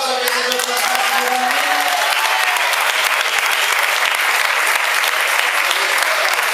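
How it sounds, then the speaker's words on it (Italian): An audience at a youth kickboxing Coppa Italia event claps loudly and continuously, with a voice over the start before the applause carries on alone. "facciamo un applauso per il dottor Massimo."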